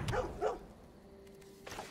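A dog card's bark effect in the MTG Arena digital card game: a couple of short, quiet barks at the start, then a faint electronic tone and another soft yip at the end.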